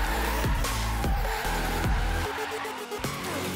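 Car drifting in a Forza racing game: engine revs rising and falling with bursts of tire squeal across several quick swings, loud and close, no talk.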